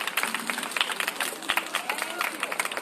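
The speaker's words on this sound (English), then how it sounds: "Give y'all some round of applause." Applause and clapping from a crowd at a lifer rally at the Michigan State Capitol, with dense, steady claps and some voices mixed in, moderately loud.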